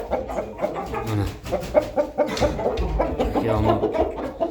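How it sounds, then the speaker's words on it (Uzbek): Lively rooster in a poultry coop clucks in rapid, repeated bursts close by, with a brief crowing cry midway, loud and continuous with other fowl sounds around. "Ishi zo'r xo'roz."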